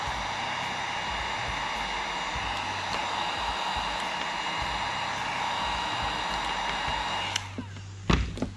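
Heat gun on its low setting shrinking heat shrink tubing over wire sleeving while sealing and wiring the cabin of a RANS S-21 kit aircraft, a continuous whirring hiss of blower air, with a couple of sharp clunks near the end.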